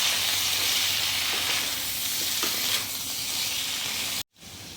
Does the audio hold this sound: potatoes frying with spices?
yes